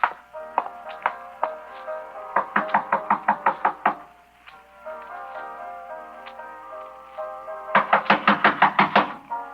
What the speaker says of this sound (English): Then I walked up to her room and knocked on the door.